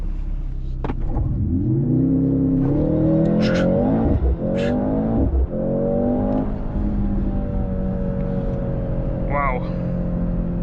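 A 2025 Mercedes-AMG C63 S E, a 680 hp hybrid, revs hard and climbs through the gears, loud and close, with a voice speaking over the roar.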